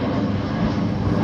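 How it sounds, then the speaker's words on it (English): An aeroplane flies over Stockport, its engine drone a steady, broad roar that fills the short stretch evenly without fading. "Another aeroplane."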